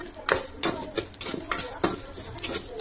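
Spices for mango pickle being roasted and stirred in a pan over a low flame: a spoon scrapes and clinks against the metal in a steady rhythm of about seven close strokes, with soft rustling between them.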